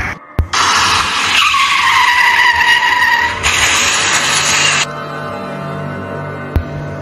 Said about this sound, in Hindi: रोको रोको गाड़ी रोको